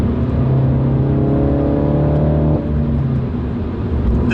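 A Mulgari ICON2 Warbird car engine runs loud and close as a steady, throaty drone that shifts pitch slightly about halfway through; no distinct exhaust pops stand out.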